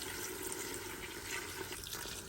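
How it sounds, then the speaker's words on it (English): Water pours steadily into a pot of Nigerian goat meat pepper soup with yam, a continuous splashing stream, close and fairly quiet, with no talking. "Now we'll go ahead and add my own water."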